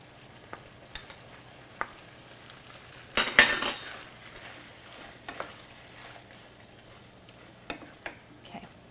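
Peppers and frozen vegetables for a Thai curry sizzle softly in a hot pan, with a burst of louder frying as the food goes in and scattered utensil scrapes and taps against the pan; no voices.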